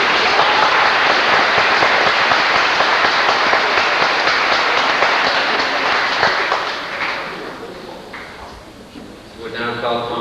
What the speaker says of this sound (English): So let's give her a round of applause too.